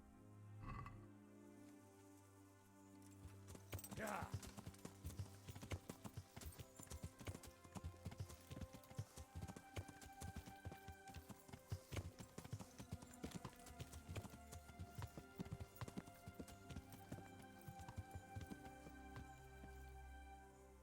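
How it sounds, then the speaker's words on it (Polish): Rhythmic horse hooves clip-clopping steadily in Kingdom Come: Deliverance, with a short whinny near the start and a faint rainy patter underneath. "Czyli to koń."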